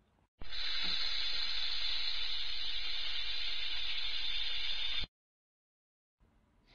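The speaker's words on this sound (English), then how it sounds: "Snake." Snake hissing from a kids' zoo animal-sound set: one long, steady, loud breathy hiss lasting about four and a half seconds, close and alone, cutting off abruptly.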